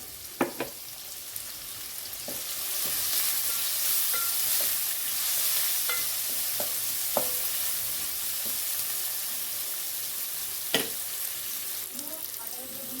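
Onions with salt fry in a pan, a constant close sizzle broken by repeated scraping clicks as they are stirred; a little background speech may come through.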